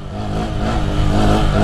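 Honda Grom motorcycle engine revving hard during a street wheelie, a steady loud mid-pitched roar that builds slightly over a short burst with no speech.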